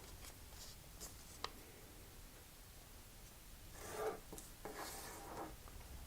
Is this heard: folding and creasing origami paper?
yes